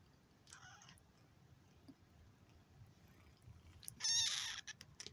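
Two short, high squeaky cries from a small kitten, the second louder and longer, over a low background rumble.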